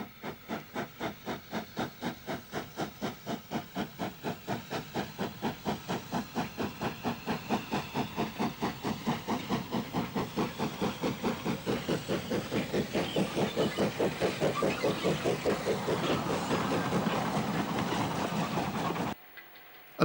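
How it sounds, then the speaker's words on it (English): Steam locomotive 76006 climbs away from Midford hauling a local passenger train in December 1965, its exhaust beating in steady, hissing chuffs that quicken and grow louder as it approaches, then stops abruptly. "76006, climbing away from Midford with the 110 down local on the last Saturday in December 1965."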